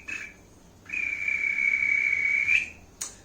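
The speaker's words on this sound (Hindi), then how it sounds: "या आप सीटी बजा लेते हो" A person whistles one clear, sustained note for about a second and a half, fairly close, with faint chirps before and after and no talking.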